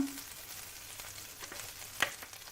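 Soft, steady sizzling and crackling of an egg and spinach mixture frying in hot butter in a pan, with a brief scrape or clink near the end.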